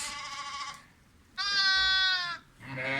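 Zwartbles sheep bleat close by in three loud, wavering calls separated by short pauses, with no talking.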